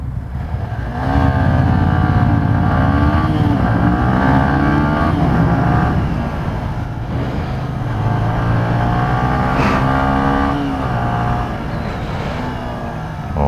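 A Yamaha MSlaz motorcycle pulls away under held throttle, its engine note loud and close, rising and falling through gear changes over a continuous exhaust drone.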